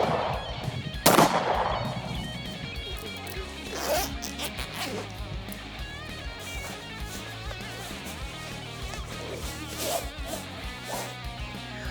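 A Kimber .45 pistol fires at an outdoor shooting range, one loud sharp shot standing out near the start followed by a few fainter reports, with ambient range noise between.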